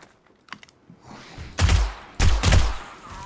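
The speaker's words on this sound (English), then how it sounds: "Or I'll just shoot you from there" Gunfire in the 7 Days to Die video game: a few faint clicks, then two loud, close gunshots about half a second apart, each with a booming low tail.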